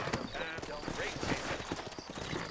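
Horses clip-clop in the Red Dead Redemption video game, a busy run of hoof knocks under a voice and other game sounds.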